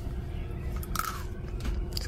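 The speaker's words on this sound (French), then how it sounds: "Ça croustille le Poki" A Pocky biscuit stick is bitten and chewed near the mic inside a Tesla at a charging stop, a few sharp crunches over a constant low hum, with no talk.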